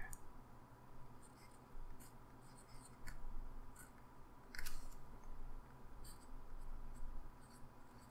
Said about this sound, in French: Et voyons maintenant comment le TWSBI Eco Jade écrit.